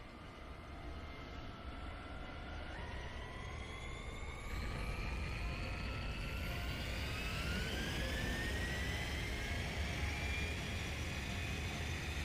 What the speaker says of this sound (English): That was a lot slower than I expected for all those jet boosters.